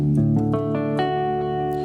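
A keyboard's "clean 5" electric guitar patch, a few sustained chords and single notes ringing out with bright harmonics, no voices.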